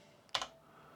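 A short burst of two or three quick keystrokes on a computer keyboard, quiet and close, with nothing else around it.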